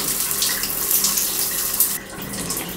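Shower water runs steadily in a bathroom, a broad continuous hiss of spray with a slight drop in intensity near the end.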